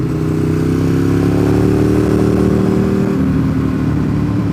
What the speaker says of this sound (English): I didn't know this bike could go that fast.